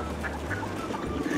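Ducks quacking in a snowy winter park where people feed them, a steady busy clamor of several birds nearby with no talk over it.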